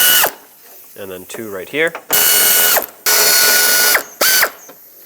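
Ratchet wrench loosening 10mm bolts on the latch of a 2006-2011 Chevy HHR, several loud bursts of rapid clicking separated by short pauses, with someone speaking briefly between them.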